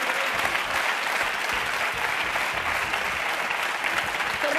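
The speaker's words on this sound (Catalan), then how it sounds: "un fort aplaudiment pels nostres convidats i concursants d'avui" Dense, steady applause from a TV game-show studio audience fills the room for the guests and contestants, continuous and even throughout without a break.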